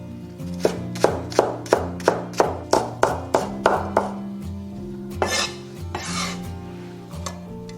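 A kitchen knife minces ginger and scallion on a chopping board: about a dozen evenly spaced, crisp chops, close and loud, followed by slower, scattered strokes and a scraping sound.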